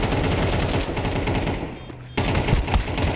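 Counter-Strike gunfire during a professional IEM Cologne 2025 match: loud, rapid shots fired in dense continuous bursts, with a brief drop in intensity near the end before the shooting resumes.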